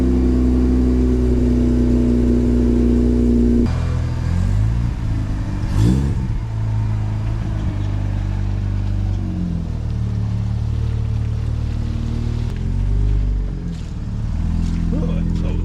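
A Mazda RX-8 engine idles with a steady low rumble, then revs up around the middle and settles back, people talking over the engine noise throughout.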